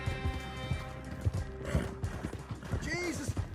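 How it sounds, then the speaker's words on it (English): Horse hooves clip-clopping at a gallop in Red Dead Redemption 2, a steady rhythmic pounding with a whinny near the end, heard close under game noise and occasional voices. "Oh, you're fine, horsey."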